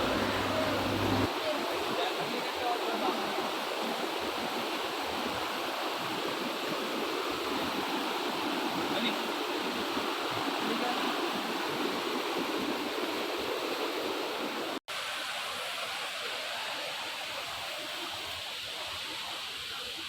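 Steady broadband rush of water flowing in a stream near Sakleshpura, continuous and fairly loud throughout with no talk, briefly interrupted by a short dropout near the end.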